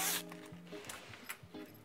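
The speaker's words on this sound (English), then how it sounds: "we can go ahead and separate the zipper." A clothing zipper is pulled apart while sewing, its teeth giving a quiet scratchy rasp in short bursts, close and alone with no talking.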